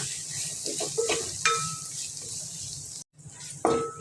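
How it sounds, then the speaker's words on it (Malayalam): Ground coriander and homemade garam masala powder stirred into a hot pan for a Kerala-style chicken curry, giving a steady sizzle with soft scraping stirs and a few light clinks, close and alone with a brief gap near the end. "രണ്ട് ടീസ്പൂൺ മല്ലിപ്പൊടി രണ്ട് സ്പൂൺ ഗരം മസാല ഗരം മസാല നമ്മൾ പൊടിച്ചതാണ് കേട്ടോ എല്ലാം കൂടി നന്നായിട്ട് മിക്സ് ചെയ്യുക"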